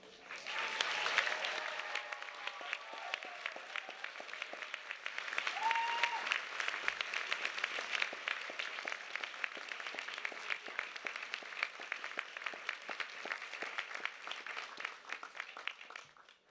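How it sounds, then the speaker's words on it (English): Graduates at a university science faculty graduation ceremony give their families a long, rousing round of applause: a sustained wall of clapping from a large indoor crowd, with a brief whistle near the start, continuing steadily until the end. "A rousing round of applause, because your family have earned it too."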